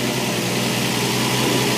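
An engine runs while warming up after a surging problem, a loud, steady mechanical drone with an even low throb and no voices over it.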